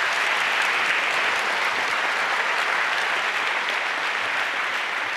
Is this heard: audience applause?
yes